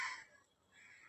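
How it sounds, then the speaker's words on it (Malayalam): A single crow caws once, a short harsh call that is fairly faint and alone. "ചിക്കുപ്പെണ്ണേ കാക്ക കാക്ക ഓടിക്ക്"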